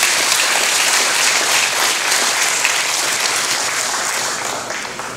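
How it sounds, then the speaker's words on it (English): Inmates and guests in a prison hip-hop ministry service clap for the guest speakers, a loud continuous burst of applause that stays full before thinning slightly at the end, close and without talk. "Give them guys a hand clap."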